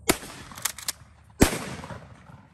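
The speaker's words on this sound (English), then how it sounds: "The gun blew up." A gun blows up in a catastrophic failure: a sharp, loud blast, a few smaller quick cracks, then a second heavy bang over a second later, with no talk.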